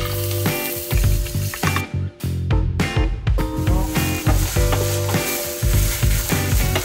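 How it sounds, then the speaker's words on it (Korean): Scallions and chili flakes frying in cooking oil over low heat to make chili oil, giving a steady sizzle beneath rhythmic, tonal background music, with a brief drop partway through. "식용유에 파랑 고춧가루를 넣고 한 약한 불에서"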